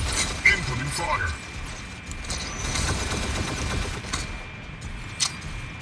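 Incoming gunfire in the mech combat game Mech Arena: rapid bursts of weapon fire mixed with clanking mechanical sounds, fairly steady throughout with a few sharper impacts, and a voice intermittently over it.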